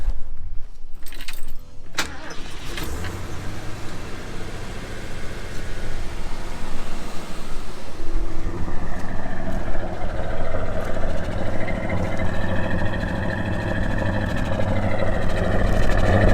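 A Ford 351 Cleveland V8 in a rusty P5 LTD donor car, dormant for 15 years, is cranked with a jangle of keys and then roars into a loud, rough, steady idle up close.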